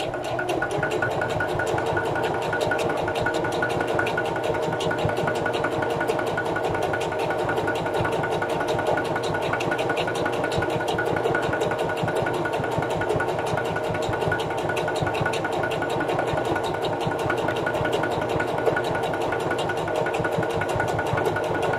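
A sewing machine stitching a fabric lunch tote runs in one long, steady, buzzing hum with a fine rapid needle pulse, close and continuous for over twenty seconds with no pauses or voices.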